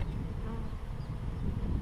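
Honey bees buzzing around a beehive with a super of nine frames, a continuous low droning hum from many insects close by, steady throughout with no voices.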